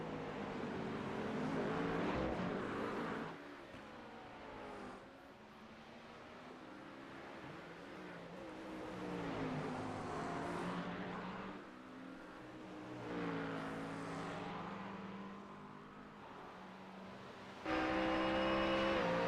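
Race cars in a USRA event at Detroit, a Mustang with a fresh paint scheme among them, roaring loudly with rising and falling engine notes as they accelerate and pass, followed by a sharp louder burst near the end.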